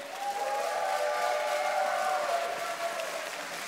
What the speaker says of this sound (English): Come on, give them a cheer.